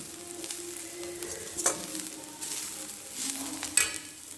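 Spices fry with a steady sizzle in an iron kadai, with a spoon scraping and stirring through them in irregular strokes, close up and moderately loud, with no voices.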